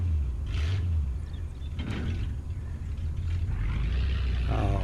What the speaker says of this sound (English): Helps to start the truck up,